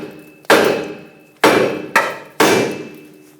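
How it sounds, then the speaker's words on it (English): A hammer strikes the steering knuckle of a 2009-2014 Ford F-150 to knock it free of the ball joint, giving four sharp metallic blows with short ringing decays in an uneven rhythm. "hit the knuckle right here and it should pop off"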